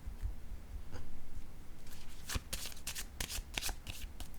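Playing cards shuffled by hand during a tarot-style card reading, a rapid series of crisp riffling bursts in the second half, close and fairly loud with no talk.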